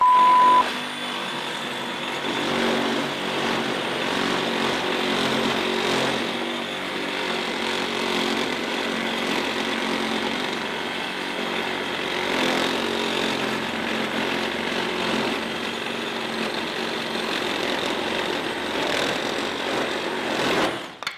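Reciprocating saw cutting through knotty wood during a timed saw test, a steady, loud, high-pitched buzzing that runs continuously for about twenty seconds with slight surges in load, alone without talk.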